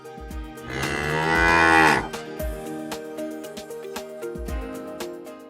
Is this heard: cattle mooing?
yes